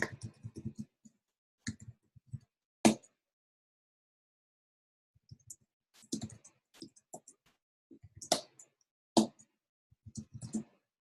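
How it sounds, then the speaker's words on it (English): Several people typing on computer keyboards during an online coding review session, heard as scattered bursts of soft clicking and key taps separated by quiet gaps, fairly close and with no one talking. "Got a couple of people typing."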